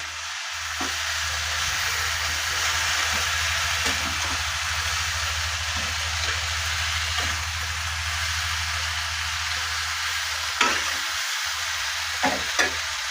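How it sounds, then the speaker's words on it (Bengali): Snake gourd curry stirred in a pan with its spice mix, a steady frying sizzle running throughout with soft scraping strokes and a few sharper utensil knocks near the end, close and unaccompanied by speech. "চলুন ভালো করে এই মশলাটাকে চিচিঙ্গার মধ্যে মিশিয়ে দিই"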